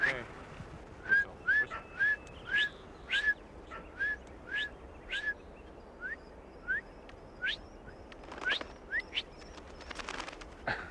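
A series of short rising whistles to call a falcon, repeated about a dozen times at an even pace, over faint outdoor background noise.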